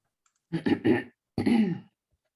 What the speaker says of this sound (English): are you just clearing your throat?